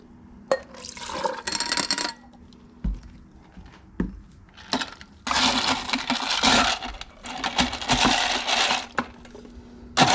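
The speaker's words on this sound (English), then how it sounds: "Put that ice in there." Ice cubes clatter and crunch as they drop into a blender jar in several bursts, with sharp clinks between quieter pauses.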